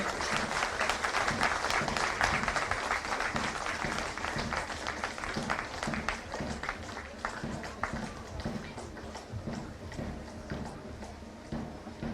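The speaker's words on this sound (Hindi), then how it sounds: "आपसे अनुरोध है कि तालियां बजाकर इनका हौसला अफजाई करें" Steady crowd clapping at a police passing-out parade continues throughout, fairly loud and dense, with rhythmic marching footfalls beneath and some voices mixed in.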